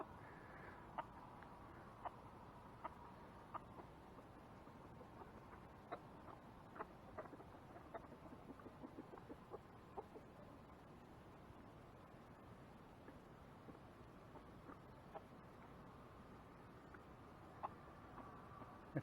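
A rooster with an injured, swollen eye on a sheep farm gives soft, sparse clucks and small ticking calls, faint and scattered over a quiet background with no talk.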